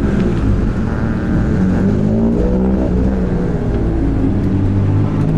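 Small 660cc NA race cars pull away for a ten-lap sprint race, a loud, dense engine roar that stays steady and close throughout.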